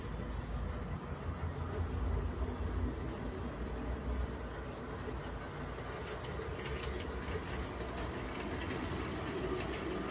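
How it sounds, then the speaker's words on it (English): An HO scale model train rolls along a Boston & Maine layout, giving a steady low mechanical rumble with faint rhythmic clicking that stays even and close throughout. "the train is now entering Petersburg Junction"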